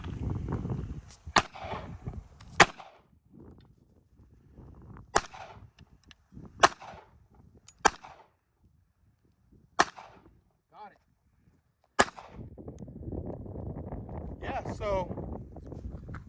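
Several sharp pistol shots from a Sig Sauer P238 fired at a coffee cup about 40 feet away outdoors, irregularly spaced cracks with someone talking between them.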